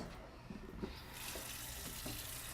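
Water runs steadily from a kitchen tap during handwashing before cooking a lamb curry, a continuous hiss that swells partway through, with faint clinks and handling noises, heard up close with no talking.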